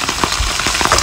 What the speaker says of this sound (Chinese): 两面煎一下，加上葱姜蒜。